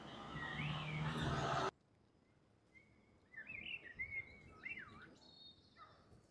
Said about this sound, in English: Lovely blackbird.